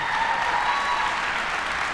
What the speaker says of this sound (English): Let's give Alyssa a big round of applause